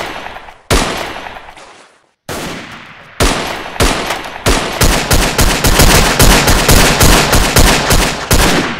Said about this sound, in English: I was figuring that this machine gun, heavy action rifle, would be a little bit more powerful.